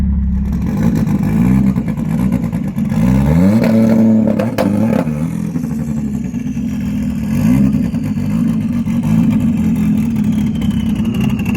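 A Renault Mégane RS runs on the short Magny-Cours circuit, its engine droning steadily and loud throughout, with rising and falling revs as it pulls through gear changes and corners.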